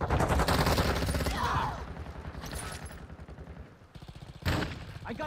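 Gunfire in a first-person shooter video game, heard as dense rapid bursts of automatic fire that fade midway, then return sharply near the end, loud and close.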